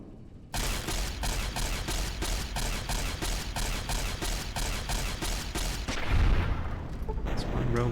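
Turrets in Fallout: New Vegas fire rapid, evenly spaced bursts of gunfire for several seconds, loud and close, ending in a heavier boom and mechanical rumble.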